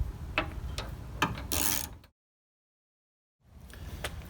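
A ratchet removes hex bolts on a 2005-2015 Toyota Tacoma Standard Cab during a tow hitch install, with quick close clicking strokes and a louder burst, then a moment of silence before faint clicking resumes.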